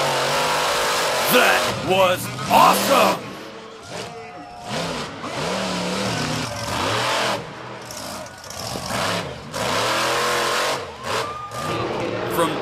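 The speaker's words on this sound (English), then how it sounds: "the monster trucks were there." Monster trucks at a thrill show rev their engines loudly in repeated rising and falling roars, with an excited voice cheering in the middle.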